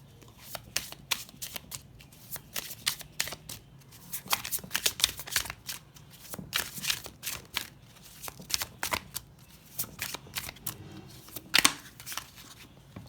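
A deck of tarot cards shuffled by hand, with repeated crisp riffling and flapping bursts in an irregular rhythm, close and fairly quiet.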